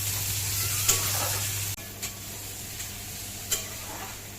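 Plenty of onion and chili frying over ginger and garlic for egg bhurji, a moderate steady sizzle with occasional stirring taps, a low hum cutting out partway through, no talking.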